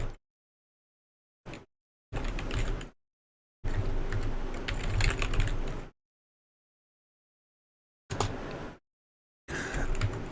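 Typing on a computer keyboard while entering Ubuntu server commands, short close clusters of key clatter separated by silent pauses, no voices.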